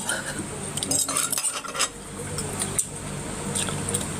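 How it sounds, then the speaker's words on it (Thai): Light clinks and scrapes of cutlery against plates recur irregularly over a steady background hiss, with faint voices now and then. "มันมีเสียงจานข้าวเหรอ"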